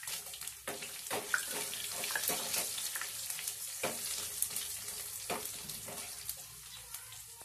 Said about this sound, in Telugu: ఇలా మన ఎండుమిరపకాయలు వెల్లుల్లి చక్కగా ఆయిల్ లో వేగిన తర్వాత